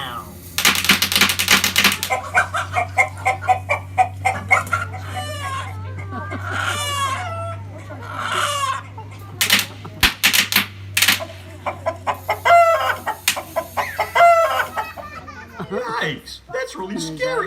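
A small chicken clucks and crows in quick bursts among busy, clattering sounds, with voices heard through much of it and a steady low hum underneath.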